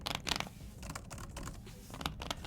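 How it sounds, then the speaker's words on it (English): Soft, quick typing on an iPad Pro Magic Keyboard with light clicky keystrokes, heard close up at a low level, coming in uneven bursts. "keys typing is so much nicer than on the Smart Folio keyboard"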